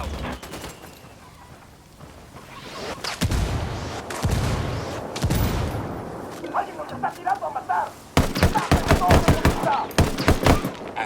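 Gunfire and indirect fire in Ghost Recon Wildlands: heavy booming blasts early on, then a rapid, loud volley of sharp gunshots in the final seconds, set against a rumbling background.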